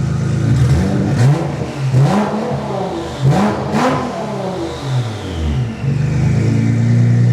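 A Nissan GT-R with a modified turbo setup revs hard and repeatedly, its engine note rising and falling in loud surges with turbo whistle and spool close by, and no voices over it.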